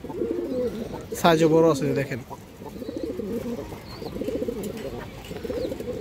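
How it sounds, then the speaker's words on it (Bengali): A female pigeon cooing in soft low throaty phrases throughout, with someone talking briefly over it and faint higher bird chirps nearby. "খুব সুন্দর একটা মাদি কবুতর"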